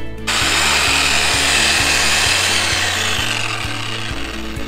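A post driver pounds 3/4 inch rebar for barrier work, its loud, close strikes landing in a steady rhythm about twice a second over a constant roaring hiss.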